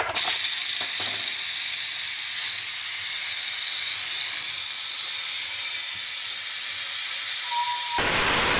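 A pressure cooker vents its steam in a loud, steady hiss that runs almost unbroken for about eight seconds, then cuts off abruptly, with a faint click near the start and no voices.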